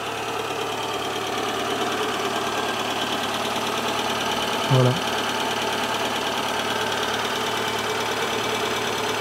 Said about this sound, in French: Un moteur TU d'origine que j'ai démonté plusieurs fois, mais qui est d'origine.